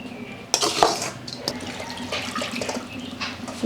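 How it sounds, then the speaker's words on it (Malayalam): Water is poured into a pan of fish curry with heated ground spice paste, giving a splash and pour with a few clinks of metal cookware, close by. "ആവശ്യത്തിന് വെള്ളം ഒഴിച്ച് പിന്നെ പുളിയും കൂടി ഇടുന്നുണ്ട്"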